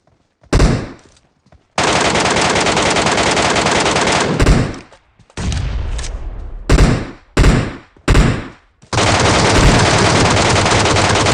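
Loud bursts of rapid automatic gunfire in the video game Metro Royale, some long and sustained, others short and choppy, separated by brief silences.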